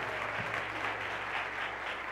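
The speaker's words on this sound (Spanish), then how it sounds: "el que se atreva a darle un aplauso al Señor desde su asiento" A church congregation applauds from their seats during an evangelical service, producing a steady, dense wash of clapping that holds evenly from start to finish with no voices over it.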